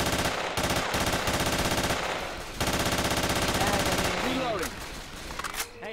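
Automatic gunfire in a video game empties a magazine in dense, loud sustained bursts with a brief break, then trails off into scattered effects and a softer tail.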